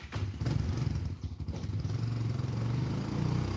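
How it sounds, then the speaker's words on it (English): A combustion engine idles steadily with a low rumbling throb and some clattering, close and continuous throughout. "Combustion engines, contained explosions to make something go fast."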